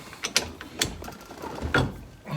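Ratchet wrench with a 7/8 socket working on a nut on a 1973 Dodge Dart Swinger, giving a few short, close metallic clicks and clanks in an irregular rhythm, with quiet handling noise between.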